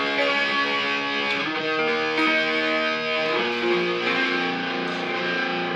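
An electric guitar with a distorted, effects-laden tone plays a chord section from a song, sustained ringing chords changing every second or so, clear and close with no talk.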